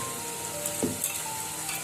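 Turmeric tempering for country-style mutton sizzles steadily in hot oil, a continuous close crackle with one brief stirring scrape partway through.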